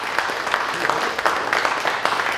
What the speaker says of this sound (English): so a little round of applause for Dwayne Doza.